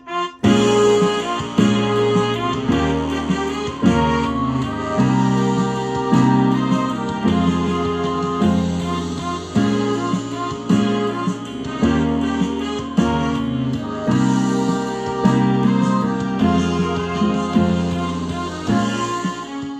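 Piano plays the chorus chord progression of a pop song, steady sustained chords with moving bass notes, full and loud throughout with no voices.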